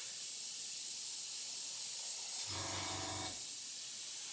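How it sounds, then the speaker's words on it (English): Red spray paint hisses in one short, light burst as it is applied to a model's red cross. The burst sits over a steady, loud background hiss. "now I'm just going to lightly spray the red cross"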